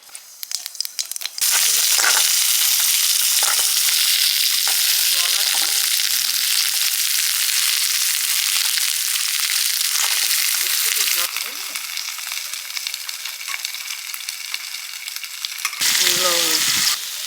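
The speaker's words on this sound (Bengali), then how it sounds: "কাঁকড়াটা কষে নেবো সর্ষের তেল জিরে ফোড়ন দিচ্ছি" Crab hitting hot mustard oil with a cumin tempering sizzles loudly in a dense, steady roar, easing slightly near the end, with brief stirring scrapes and a voice surfacing faintly at the close.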